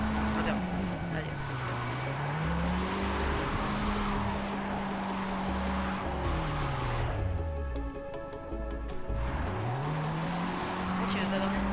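A car drifts in the Need for Speed World racing game, its engine tone swooping up and down in long revving sweeps over a constant roaring, screeching wash, loud and unbroken.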